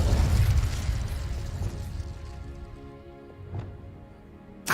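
Incendio fire spell cast in Hogwarts Legacy, a fiery burst at the start that fades into a crackling tail, then a softer thump midway and a sharp pop at the very end, with no talking.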